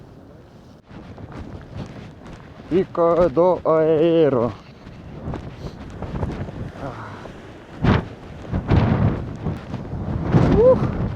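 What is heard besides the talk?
strong wind blowing on Pico do Arieiro mountain top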